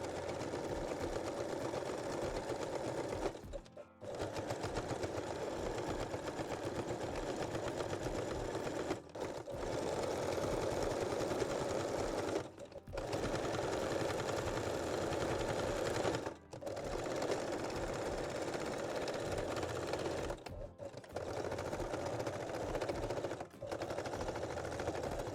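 Sewing machine running in long rapid bursts while stitching the closure on a bralette, a steady mechanical whir broken by several brief pauses, with no talking.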